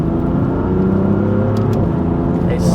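A BMW F82 M4 Competition with an aftermarket exhaust rumbles loud and close, a steady deep engine drone with a slight rise near the end, and people talk over it.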